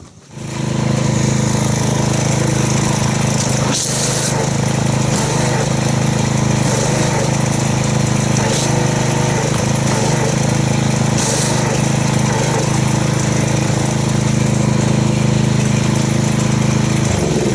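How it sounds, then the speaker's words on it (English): Gas-powered pressure washer engine running steadily nearby during a car wash, a loud continuous droning hum that starts abruptly and holds even with brief clicks and sprays. "So let's get the pressure washer and see how it foams."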